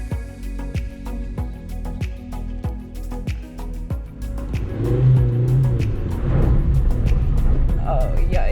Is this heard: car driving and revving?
yes